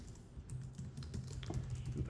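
Quick typing on a computer keyboard, a soft, fast run of close key clicks over a low steady hum, with no voice.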